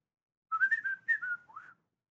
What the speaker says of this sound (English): I was trying to do a whistle thing.